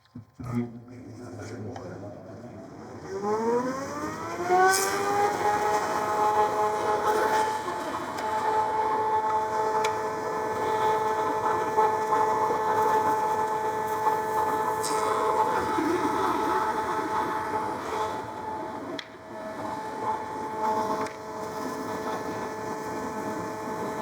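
Shaper cutting boards fed through by a power feeder against an outboard fence: steady loud machine whine that spins up over the first seconds and then holds a constant tone with continuous cutting noise.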